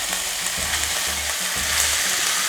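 Kimchi stir-frying with cooked meat over medium-low heat, producing a dense, steady sizzle with rhythmic low thumps of stirring.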